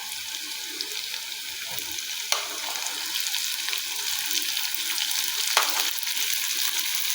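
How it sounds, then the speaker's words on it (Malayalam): Chopped onion frying in a hot pan for a ghee rice and chicken curry, giving a steady broadband sizzle throughout with a few brief clinks of stirring, close and fairly loud, no talking. "നമുക്കിതിലേക്ക് ചെറുതാക്കി അരിഞ്ഞ സബോള ഇട്ട് കൊടുക്കാം."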